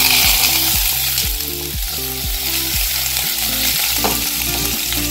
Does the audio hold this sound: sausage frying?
yes